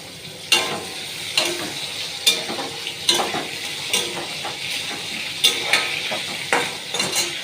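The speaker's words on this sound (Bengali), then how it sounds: "আমি এক এক করে সব আলুগুলো দিয়ে দিচ্ছি।" Potatoes sizzle in oil in a pan while a spatula scrapes and stirs them in regular strokes, each stir a sharp clatter over the constant frying hiss.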